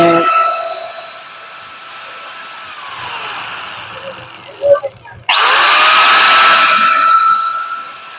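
A 4-inch, 860 W cutting machine for wood, bamboo and iron runs with a loud, steady whine, dies away to a faint hum with a few clicks, then abruptly roars back to full speed.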